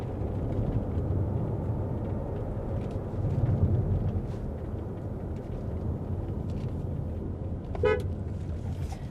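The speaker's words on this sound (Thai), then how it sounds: "เสียงแตรคันนี้ก็ดังดีมากเลย" An Omoda C5 EV electric car gives one short, sharp honk of its horn near the end, over steady low road and cabin rumble on a mountain drive.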